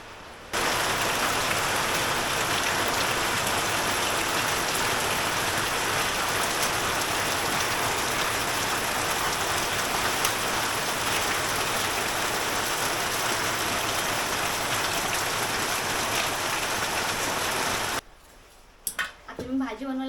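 Steady, heavy rain pours without a break for about eighteen seconds on a farm where a meal is being cooked, then stops abruptly, leaving a few faint sounds behind.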